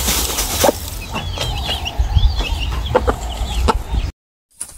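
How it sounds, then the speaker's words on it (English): Rooster and hen clucking on a rural Maasai-land smallholding in Kenya, a steady run of nearby clucks and short calls over outdoor background noise, ending in a brief silence. "the cocks wanted to come in so bad because they've not hang out with this hen for a while"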